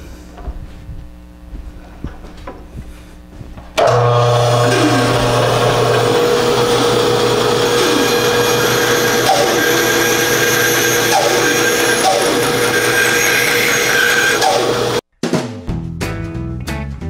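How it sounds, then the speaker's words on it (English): Bandsaw rough-cutting a block of wood into a spinning top: a loud, steady machine whine and broadband cutting roar starts abruptly and runs continuously for about eleven seconds, then cuts off sharply, with quieter workshop handling sounds before and after. "I'm going to go ahead and rough this out on the bandsaw and finish it out on the belt sander"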